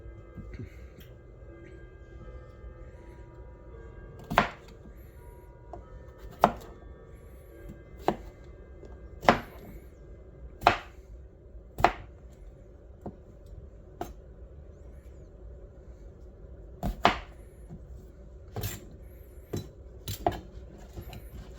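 Potatoes chopped with a knife on a board, about a dozen sharp, separate thuds spaced one to two seconds apart against a quiet background hum, close and with no talk.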